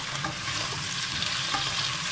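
Peppers and peas are stirred in a frying pan, sizzling steadily throughout with scraping stirs over the constant frying hiss, close and moderately quiet.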